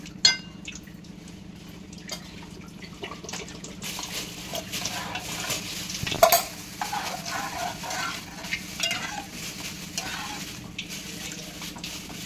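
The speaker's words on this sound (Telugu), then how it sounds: "ఇది కొంచెం తిక్కుగా అయింది కాబట్టి నేను ఇప్పుడు ఇందులో కొన్ని వాటర్ వేస్తాను." Water poured into a thick gram flour (besan) curry in a pan and stirred, giving soft liquid sloshing and scraping with a brief splash midway, close and steady under a low kitchen hum.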